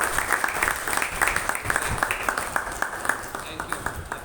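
A congregation at a Christmas service applauds in thanks to God, a moderate burst of many hands clapping with distinct sharp claps, while a voice speaks over it.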